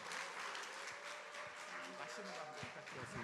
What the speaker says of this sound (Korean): 우리 큰 박수로 우리 환영해 드리겠습니다